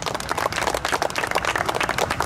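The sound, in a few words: applause for a deceased racing team member at horse track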